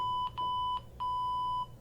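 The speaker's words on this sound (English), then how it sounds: "that's my alarm." An alarm clock goes off with a steady electronic beep, a high tone pulsing in short bursts with brief gaps between them, moderately loud and alone with no voices.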